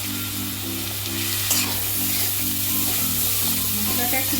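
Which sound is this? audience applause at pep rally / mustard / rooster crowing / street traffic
mustard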